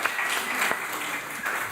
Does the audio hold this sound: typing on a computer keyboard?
no